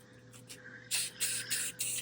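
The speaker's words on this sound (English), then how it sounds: "So I just do these little sprays." Short bursts of an aerosol spray paint can coating a lamp, four quick close hisses in an irregular rhythm over a faint background hum, with no talk.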